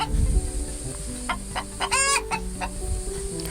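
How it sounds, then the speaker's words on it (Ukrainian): A hen clucks in short bursts over a low background hum, with a brief high, rapid cackle near the middle. "Мама курка у садочку кличе донечок, синочків."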